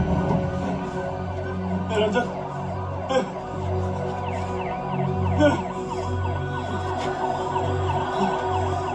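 An ambulance siren wails continuously at moderate distance, its warbling tone cycling steadily over rumbling traffic and faint background voices.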